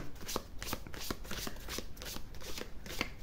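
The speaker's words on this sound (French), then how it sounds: "on va aller retirer une carte sur ce pendu, là, sur ce blocage." Tarot cards shuffled by hand, a quick series of soft riffling flicks and slaps repeating steadily at close range, quiet and without talk.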